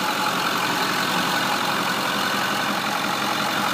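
A 2008 Ford F250 Super Duty diesel pickup idling at operating temperature: a dense, steady engine clatter and rumble, close and continuous with no change in pace, alone without voices.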